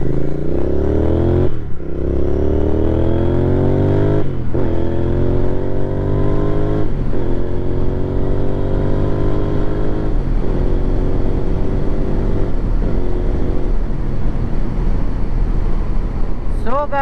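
Royal Enfield Hunter motorcycle on a test ride, its single-cylinder exhaust note loud and close as it revs and shifts through gears repeatedly, engine pitch rising and falling across the run with wind rush underneath.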